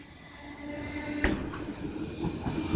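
Class 455 electric unit 455832 pulls away from a platform at East Croydon, its camshaft control giving a fierce, steady motor hum with a sharp clunk partway through, close by and without speech.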